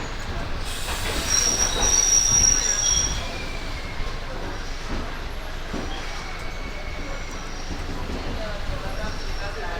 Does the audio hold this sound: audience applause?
no